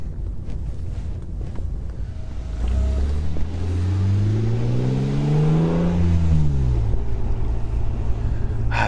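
A BMW E36 M3 engine revs up and down while driving. The rising then falling tone is strong and close, over steady wind and road noise inside the car.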